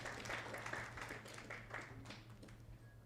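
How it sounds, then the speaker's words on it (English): Audience clapping for a company director introduced at a youth sustainability conference, scattered, fairly quiet applause with distinct individual claps over a steady low hum, no voices. "Round of applause."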